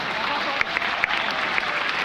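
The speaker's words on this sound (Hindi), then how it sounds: "मन करता है ताली बजा सकते हैं मेरे नाम पे" A seated audience claps at a talk by a speaker from Allahabad, a brief burst of steady, fairly dense applause with a few sharper individual claps standing out.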